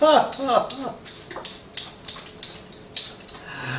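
Carrots being peeled in a kitchen, a run of quick rasping scrapes at a steady rhythm, close and crisp, with a voice speaking briefly at the start.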